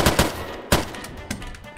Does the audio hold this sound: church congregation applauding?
no